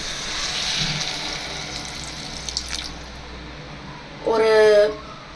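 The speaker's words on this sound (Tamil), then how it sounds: "நான் இந்த டம்ளரில் ரைஸ் எடுத்தேன், அதனால் இந்த டம்ளரில் தான் தண்ணி ஊற்ற போகிறேன்." Water poured from a tumbler into a pot of washed rice and toor dal for sambar rice: a short, loud splashing pour near the end, after a quiet stretch with a faint background hiss.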